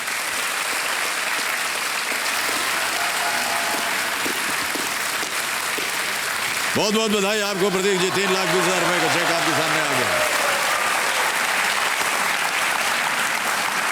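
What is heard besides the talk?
studio audience applause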